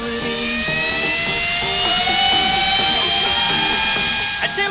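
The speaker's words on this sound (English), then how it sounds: "This is the super speed spinning spinner strike slam and smash shot." A fidget spinner whirring at high speed, a loud, steady whine with several tonal pitches that drift slightly as it spins, with no speech.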